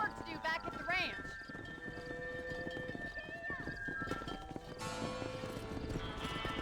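Horse hooves clip-clop at a steady gallop through Red Dead Redemption, with a whinny early on, game music and someone talking over the rhythmic footfalls.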